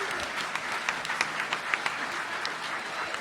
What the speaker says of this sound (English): I think that warrants applause